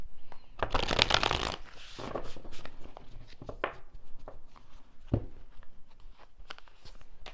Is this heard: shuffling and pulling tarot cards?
yes